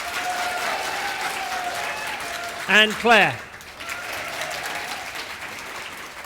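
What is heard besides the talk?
audience applause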